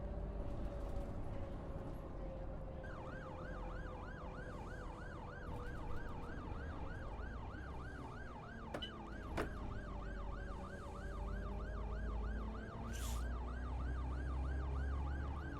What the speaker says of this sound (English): Now, I can hear a siren behind me, but I don't know where it is.